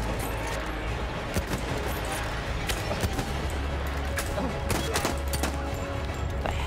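Dense, continuous gunfire from a Battlefield 1 firefight, with sharp overlapping shots and bursts over a loud battle din, some cracks standing out close by.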